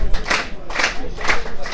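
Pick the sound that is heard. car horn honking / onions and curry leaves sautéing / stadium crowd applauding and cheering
stadium crowd applauding and cheering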